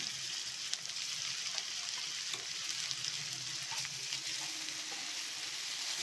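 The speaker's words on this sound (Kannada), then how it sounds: "ಸ್ವಲ್ಪ ಹಸಿ ವಾಸನೆ ಹೋಗೋವರೆಗೂ ಫ್ರೈ ಮಾಡ್ಕೊಳ್ಳೋಣ" Onions with garlic ginger paste frying in a pan for prawn fry, a steady close hiss and sizzle with occasional soft stirring scrapes, no voices.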